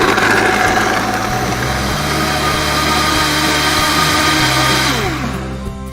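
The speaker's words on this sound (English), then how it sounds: "And that's my favorite part about the Vitamix, is it just turns off on its own for smoothies." A Vitamix blender whirs steadily at high speed through a blueberry banana smoothie, a loud continuous motor roar that holds for about five seconds before winding down as it shuts itself off.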